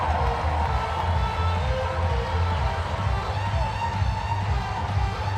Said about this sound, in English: Brings this crowd to life at Baum-Walker Stadium.